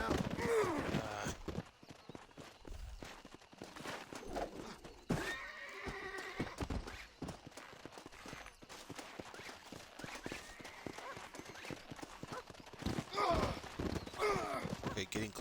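A horse in the video game Red Dead Redemption whinnies several times amid intermittent hoof clops, with a person talking softly between the calls.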